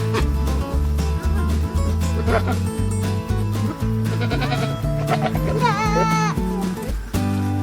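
A tiny Nigerian dwarf goat bleats close by, with a rising wavering cry near the end, over a loud steady rhythmic music-like background.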